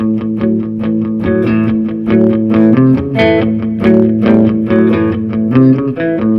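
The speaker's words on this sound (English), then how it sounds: "play what's commonly referred to as shuffle" Distorted electric guitar chugs a bouncing blues shuffle rhythm, steady swung notes repeating loudly with no voice.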